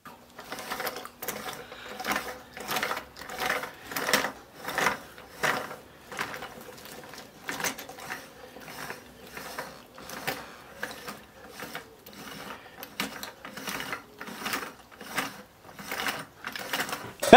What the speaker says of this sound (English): we can use that joint along with the Hobson's coupler to create a device that will be able to turn two axles at any angle